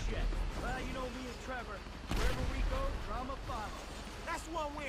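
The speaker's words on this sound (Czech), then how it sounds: "Wow, tank. Jako věděl jsem, že tady je, ale že si začne střílet." A tank fires its cannon in GTA V, booming blasts with a big burst near the middle, under a busy mix of game noise and someone talking.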